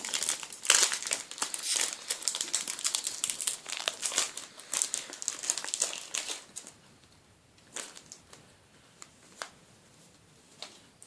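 Foil trading card booster pack wrappers from tins are opened with loud crinkling and tearing for several seconds, then fade into sparse rustles and soft card handling.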